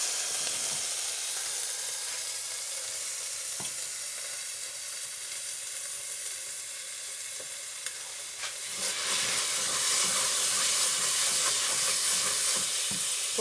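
Pondu (cassava leaves) fry in a pot with a steady close sizzle and hiss, a few light stirring knocks, and the frying swells noticeably louder and brighter partway through.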